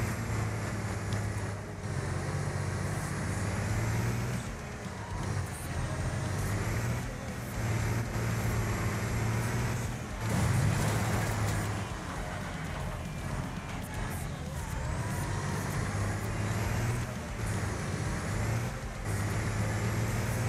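Engines roar continuously in the Wreckfest video game, a car drifting amid a demolition-derby pack, with steady harmonic engine drone, shifting pitch and tire noise, loud and sustained throughout.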